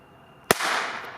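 A weak New Year's Eve firecracker with a poorly burning fuse goes off in one sharp pop, followed by a short, softer hissing fizzle.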